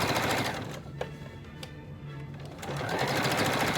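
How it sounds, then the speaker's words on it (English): Close and loud, a sewing machine stitches a fabric mask, its motor running in a continuous rapid whir that dips briefly midway and then picks up again, with no voices. "Start sewing."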